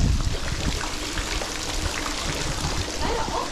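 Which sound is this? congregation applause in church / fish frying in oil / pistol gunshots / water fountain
water fountain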